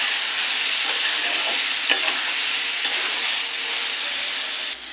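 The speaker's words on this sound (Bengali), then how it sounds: "এর সাথে দিয়ে দেবো সয়াবিনগুলো। এটাকে একটু কষিয়ে নেব।" Soybeans sautéed in a pan for a Bengali soy curry give a steady, close sizzle with frying crackle and faint stirring scrapes, continuous throughout.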